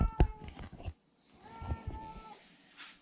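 A kitten mews a few times in a home kitchen, short soft cries in a quick cluster, then a quieter drawn-out meow after a brief pause.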